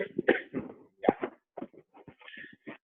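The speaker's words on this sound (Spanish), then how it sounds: "Espero no toser más." A speaker with a sore throat coughs during a lecture at an archaeology conference. Several short, harsh bursts come in quick succession, close and fairly loud, with brief gaps between them.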